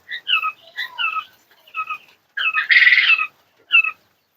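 A male quail held in the hand gives bursts of short, bright chirps and a harsher squawk, close and clear, with silent gaps between calls.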